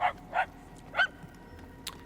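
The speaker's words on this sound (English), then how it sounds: "if the puppy is barking in my right ear, I turn right. If they're barking in my left ear, I turn left" A puppy barks in the Guardians of the Galaxy video game: three sharp, fairly loud yips in quick succession, then a fainter short yip near the end, over a quiet hum.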